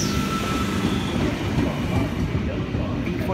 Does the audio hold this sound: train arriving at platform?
yes